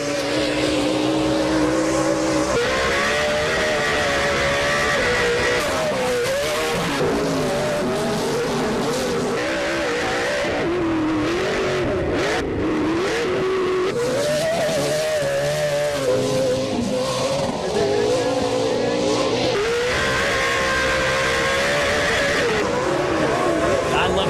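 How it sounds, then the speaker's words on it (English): Loud roaring V8 engines rev and rise and fall in pitch as off-road race trucks charge past continuously, with occasional tire noise and a commentator talking over it. "These things sound. I mean, big V8 engines."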